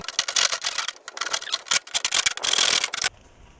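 Rapid rasping strokes of a saw cutting through a plastic rain gutter downspout line, close and loud, continuing steadily for about three seconds before stopping abruptly.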